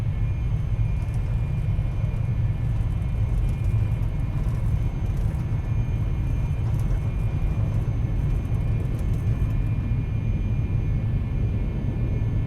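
Steady, loud airliner engine roar with deep rumble and a faint whine through a takeoff climb in the X-Plane 11 flight simulator over Northern California, continuous and unbroken with no talk.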